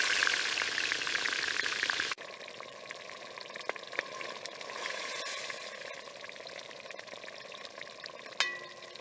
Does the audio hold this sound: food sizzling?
yes